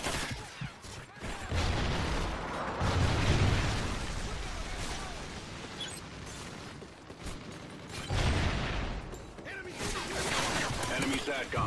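Game combat in a first-person shooter: dense bursts of explosions and gunfire with a heavy blast around the middle and another near the end, loud and continuous, with game voice callouts mixed in.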